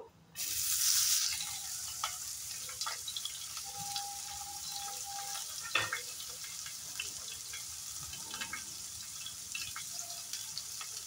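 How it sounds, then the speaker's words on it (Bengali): Chopped onions dropped into hot white oil with black cumin seeds, opening with a loud burst of sizzle that settles into a steady crackling fry with occasional utensil clinks, no talking. "সাদা তেল দিলাম, একটু কালো জিরা দিয়ে দিলাম। কেটে রাখা পেঁয়াজটা দিয়ে দেবো।"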